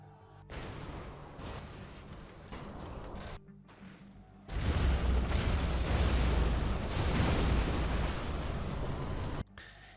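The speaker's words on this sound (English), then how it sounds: "He's firing his 2 scuds" Scud missiles fire and explode in a real-time strategy video game, heard as a rumbling barrage with a sustained roar that swells loudly midway before cutting off.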